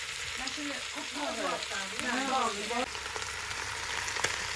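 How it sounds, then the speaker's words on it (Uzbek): Food frying in a pot with a constant sizzling crackle, while a person talks briefly over it in the middle. "Qovurilishda davom etyapti"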